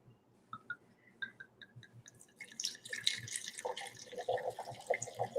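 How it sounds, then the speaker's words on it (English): Wine poured into a glass during a casual home happy hour, starting with a few soft drips and then turning into a steady, close liquid glug and splash that gets louder over several seconds. "And Natalie, may I pour you a glass of this wine?"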